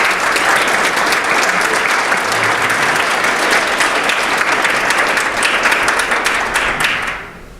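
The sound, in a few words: audience applause welcoming a speaker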